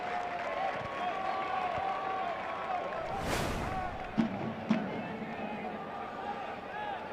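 Crowd and team bench applauding and cheering after a left-footed strike at a U23 soccer match between Ballard FC and Chivas de Guadalajara, a broad steady roar of clapping throughout, with a swell in the middle and a couple of sharp thuds near the end.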